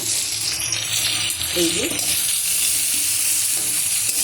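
Ginger and onion frying in a pan give a steady, loud sizzle with faint stirring scrapes, and a brief voice speaks over the hiss.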